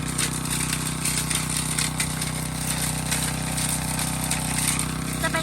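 The small engine of an old Japanese snowblower adapted for scooping soil runs steadily nearby, a constant rattling drone with no breaks.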